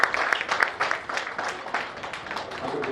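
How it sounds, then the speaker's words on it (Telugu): A crowd at a property developer's lucky draw meeting breaks into applause, a moderate burst of scattered clapping that thins out over a few seconds. "ఒక్కసారి బిగ్ క్లాప్స్ ప్లీజ్"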